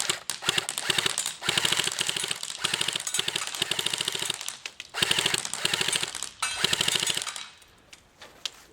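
An airsoft gun fired from around a corner at a target, rapid rattling bursts of shots in several strings separated by short pauses, fairly faint, ending in quiet.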